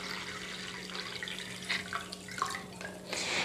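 A litre of water is poured into a container while making homemade bactericidal and fungicidal soap, giving a steady splashing trickle with a few brighter gurgles and drips, moderately close and alone.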